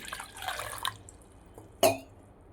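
Water is poured over tamarind to soak it, a short splashing pour followed by a quieter pause and one brief sharp splash or drip near the end, close and fairly soft.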